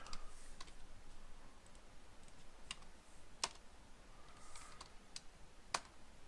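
Typing on a computer keyboard: scattered light key clicks with a few sharper taps, quiet and close, with no talk over them.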